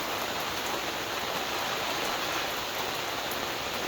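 Steady heavy rain drumming on a surface, a dense unbroken hiss that continues evenly from start to finish with no voices.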